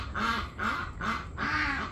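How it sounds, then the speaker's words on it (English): Ducks indoors quack in loud, nasal bursts, four close, rhythmic calls in quick succession with brief gaps between them. "Oh my God, these ducks."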